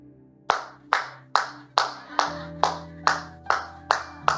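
Rhythmic hand clapping, about ten sharp claps at an even pace, from a church worship gathering, with sustained music tones underneath.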